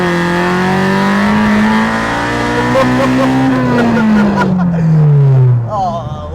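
Citroen AX fitted with a swapped Honda Civic Type R engine accelerating hard, a loud rising engine note with steady harmonics climbing, then easing back near the end, heard from inside the car with occasional talk over it.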